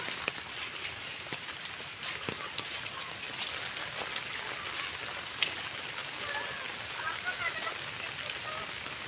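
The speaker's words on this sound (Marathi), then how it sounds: "इथे पाणी वाहायला सुरुवात झालेली आहे" Water from fresh rain runs in a small jungle stream on Gorai mountain, a soft steady trickle with scattered drips and taps and a faint voice now and then.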